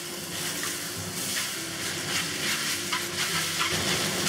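Cooked rice noodles for beef chow fun are tossed and stir-fried in a hot wok, giving a dense, continuous sizzle with scraping and stirring, close up and steady throughout, no voices.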